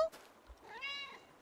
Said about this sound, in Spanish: ¡Oh! ¡Mira este peludo y esponjoso gato!